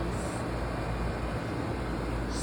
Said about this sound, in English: Excuse the noise that is the air conditioner,